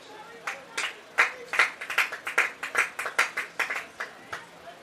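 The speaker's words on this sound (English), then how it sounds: "Here's some applause from the crowd." A packed crowd at a college baseball tournament game between Tampa and Rollins claps in a rhythmic, evenly spaced pattern, about a dozen sharp claps in sequence, moderately loud and fairly close.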